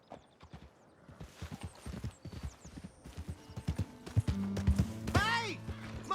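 Hooves clatter in a quick, steady clip-clop as a horse gallops in the game Red Dead Redemption 2, with game music and effects, a whinny-like call, and a voice speaking over it.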